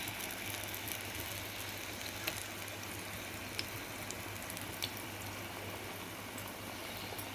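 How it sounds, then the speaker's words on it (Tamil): Banana stem bajji frying in hot oil in a kadai, a soft continuous sizzle and bubbling with faint pops, steady and fairly quiet with no talking. "இப்போ பொரிப்போம்"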